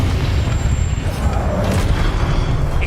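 A Confringo spell explodes in the video game Hogwarts Legacy, giving a heavy, rumbling boom that holds a dense low roar for several seconds. A fainter burst crackles partway through.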